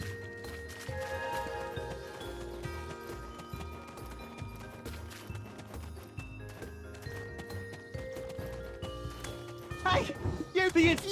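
Horse hooves clip-clop rhythmically during riding in the video game Black Desert Online, mixed with game music and effects, with louder bursts near the end.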